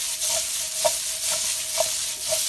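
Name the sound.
tossing sautéed vegetables in a pan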